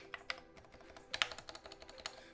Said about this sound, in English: I need to mod this keyboard.